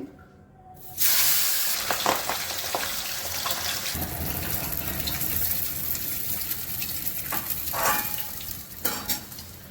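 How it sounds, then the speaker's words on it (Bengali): Steady oil sizzle of pabda fish frying in mustard oil in a pan, with occasional stirring clatter and scraping, no voices. "প্রথমে মাছগুলো ভেজে নিচ্ছি"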